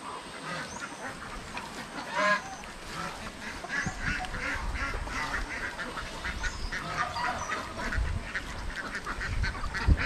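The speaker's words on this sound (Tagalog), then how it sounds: "Yung mga itik natin." Domestic ducks quack repeatedly in a noisy flock, their honking calls overlapping close by over a rough, rumbling outdoor background.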